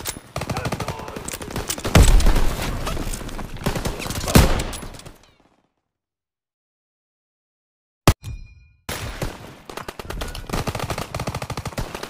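Dense bursts of rapid gunfire and explosions from a World War II battle in Call of Duty: WWII, defending a captured gun position, then a few seconds of silence, a sharp crack, and more shooting.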